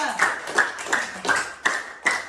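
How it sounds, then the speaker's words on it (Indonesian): A classroom group clapping for group 2's poster presentation, six distinct rhythmic claps or claps in bursts at an even pace, fairly close and loud with a ringing tone. "Oke, tepuk tangan untuk kelompok 2."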